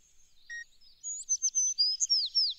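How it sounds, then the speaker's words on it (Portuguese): Faint high-pitched sparrow song played from a digital voice recorder in an animated cartoon: a series of quick chirps and trilled notes in rapid succession, thin and somewhat distant against silence. "Eu acho que deve ser de um pardal."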